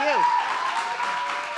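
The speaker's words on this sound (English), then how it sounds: "if you would give them a round of applause for all the support they gave" A respiratory therapy graduation audience applauds families and supporters, a steady spread of clapping with a short tonal whoop or whistle at the start and a faint sustained tone running underneath.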